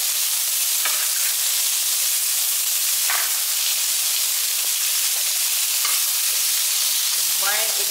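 Japanese cucumber and tomato stir-fry in a pan with a continuous loud sizzle and hiss, broken by a few brief scrapes and stirs.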